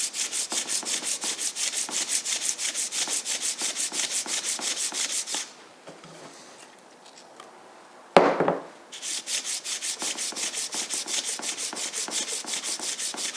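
Aluminum sanded by hand with sandpaper lubricated with WD-40, a steady rapid back-and-forth rubbing rasp that fills the first five seconds, stops for a quiet pause broken by one sharp clatter, then resumes just as strongly.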